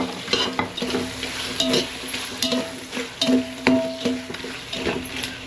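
Chopped tomatoes sizzle and fry in a pan of onions and green chili for mutton biryani, with steady crackling and repeated scraping and clinking of a stirring spoon against the pan, close up and without speech.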